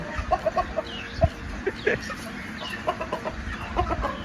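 Chickens clucking in short scattered bursts outdoors at a low level, mixed with faint rustling and background noise.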